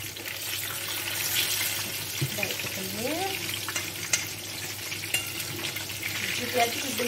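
Eggplant fries in hot oil with a constant close sizzle, while a voice murmurs briefly partway through and a few light clinks are heard.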